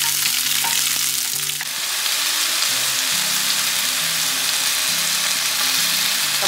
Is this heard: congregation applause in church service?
no